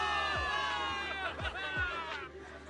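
A crowd of soldiers cheering for victory in the video game Zenless Zone Zero, a dense sustained roar of voices with whoops rising and falling at steady loudness throughout.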